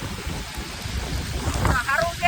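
Steady heavy monsoon rain pours down loudly and continuously in Bhavnagar, Gujarat, a dense hiss with low rumbling underneath.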